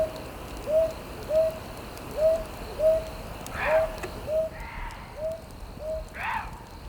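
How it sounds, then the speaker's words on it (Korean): A brown hawk owl calls at night with a run of about ten soft, evenly spaced hoots. Faint rustling and other night sounds are heard behind them. "해질녘부터 활동하기 시작하는 솔부엉이."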